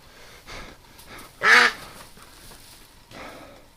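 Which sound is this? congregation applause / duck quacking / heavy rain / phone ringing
duck quacking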